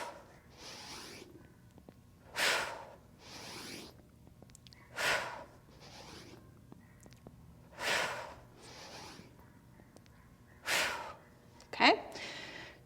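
Sharp, audible exhales recur every few seconds during parallette push-ups, close and breathy, with a soft voice speaking between the breaths.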